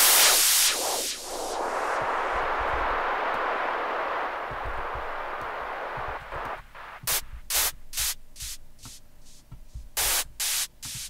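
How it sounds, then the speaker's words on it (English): A default noise sweep preset in dubstep production software hisses as a broad, filtered white-noise wash that sweeps and fades, followed by a run of short, sharp noise bursts chopped in a stuttering rhythm. "So what I have is a default noise sweep setting"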